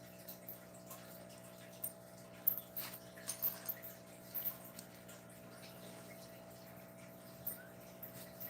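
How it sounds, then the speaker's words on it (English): Household dogs bark and whimper faintly in another room, giving short scattered bursts over a quiet, steady indoor hum. "There goes my dogs again."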